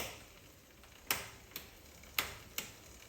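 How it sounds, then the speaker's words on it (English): Sharp mechanical clicks from a bicycle chain on a Shimano 12-speed derailleur with the cable tension slightly off, four quiet, distinct ticks at irregular spacing over a low background. "That clicking you're hearing is actually the chain tension, or the cable tension not being quite right"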